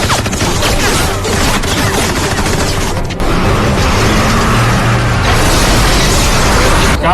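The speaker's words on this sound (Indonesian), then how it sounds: "Lalu Stonebank menembaki anggotanya karena tidak becus dalam bertugas" Dense gunfire and explosive bursts from a scene in the film The Expendables 3, loud and continuous with rapid overlapping shots and a brief dip in the middle before the barrage resumes.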